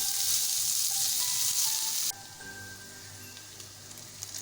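Onions fry in a pan with a bright, steady sizzle that cuts off abruptly partway, leaving a much quieter low crackle and faint clinks.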